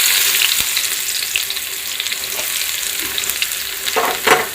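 Onions and curry leaves sizzle steadily in hot coconut oil in a pan, a close, continuous frying hiss with occasional stirring scrapes and no talking.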